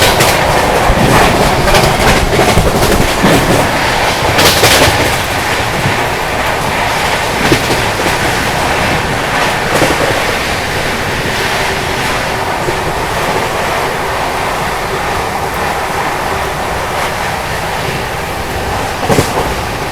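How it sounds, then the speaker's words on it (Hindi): The Delhi to Mumbai Rajdhani Express running at speed after leaving the station, a loud, steady roar of wheels and rushing wind heard from inside the coach, continuous with no voices. "अभी देखो ट्रेन जस्ट निकली है अपनी और लो 130 की एमपीएच स्पीड भी टच कर ली है"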